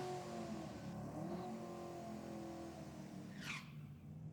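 A Volkswagen Golf Mk7 race car engine drones and revs at a distance, with a brief rising whine of acceleration near the end, steady background noise throughout.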